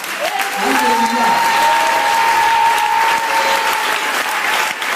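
A church congregation breaks into sustained applause during a Sunday service, loud dense clapping filling the room for several seconds, with a voice calling out over it at the start.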